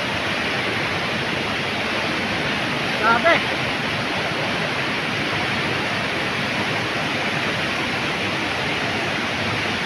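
Loud, continuous roar of rushing floodwater, a broad churning wash that never lets up, with a brief exclamation from a voice partway through.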